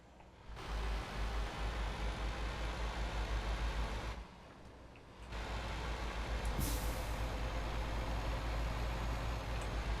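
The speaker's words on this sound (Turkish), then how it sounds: "Bu sesi frene basınca yapıyor arkadaşlar. Modla alakalı sanırım. Havalı fren dedikleri zımbırtı bu mu oluyor?" Air brake of a 2009 Scania R440 truck mod in Euro Truck Simulator 2, a loud steady pneumatic hiss that cuts off briefly and then resumes, with a sharp short release burst partway through.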